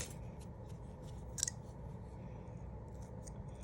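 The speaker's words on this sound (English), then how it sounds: "I'm just trimming off some of the excess pieces around the edges." Scissors trimming excess wool felt from the edges of a needle-felted penguin keychain, a series of quiet, close snips with one sharper cut, over a soft steady background hiss.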